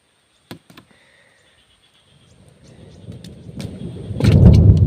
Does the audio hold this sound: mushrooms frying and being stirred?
no